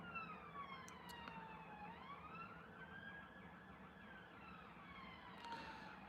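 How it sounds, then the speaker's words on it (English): Police sirens wail at a distance, their rising and falling tones sweeping slowly and steadily, faint and alone in the background. "We got the sirens coming on in the background."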